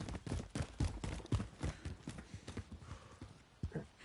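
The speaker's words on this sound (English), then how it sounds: "I'm hearing footsteps around me." Footsteps in a PS4 video game, a quick run of close, rhythmic steps with hard clip-clop-like impacts that go on steadily over the game's background sound.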